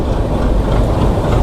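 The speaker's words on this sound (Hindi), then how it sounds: "हमारी ट्रेन ने यहाँ पर रफ्तार पकड़ ली है" A sleeper train travelling from Vadodara to Khajuraho via Indore picks up speed with a loud, close, continuous rumble and rattle of rolling wagons, heard from on board with no talking.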